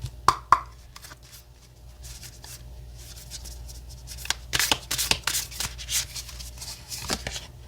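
Oracle cards are handled and shuffled nearby, soft riffling flicks and papery slaps in scattered bursts, with a couple of sharp taps early on, quiet and alone in a calm room.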